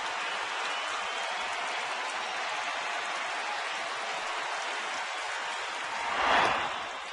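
A baseball stadium crowd, Giants at Dodgers, roars steadily with the bases loaded, a broad sustained wash of cheering that swells briefly near the end.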